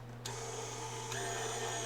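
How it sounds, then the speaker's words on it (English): An electric meat grinder grinds veal for meatballs, giving a steady, close mechanical whir with a constant hum throughout and no speech. "We're going to grind our own meat, put it in here, then put the meatballs together."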